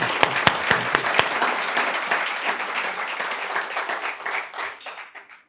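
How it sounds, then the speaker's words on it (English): An audience claps warmly for an Indian Army Chief, General Manoj Pande, at an event: a few sharp, loud claps start it, then dense, sustained applause follows and slowly thins and fades out. "a huge round of applause for the Army Chief"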